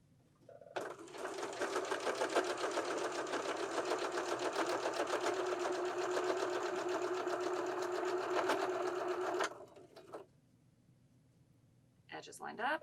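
A sewing machine stitches a pillow with piping in one steady, close run of rapid stitching lasting several seconds, then stops abruptly, followed by a brief quiet handling noise.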